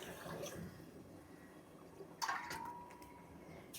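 Water pours and splashes into a pot of rice for fenugreek rice in a short stream, fairly quiet, followed by a brief gurgle.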